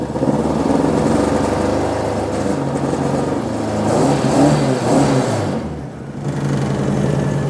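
A car engine with a weak alternator and a hard-starting condition is held at high throttle and revs continuously, running loud and close with small rises and dips in pitch and no talking.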